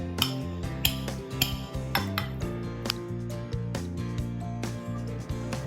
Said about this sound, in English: So we will be putting all the sweet potatoes and we will be smashing it.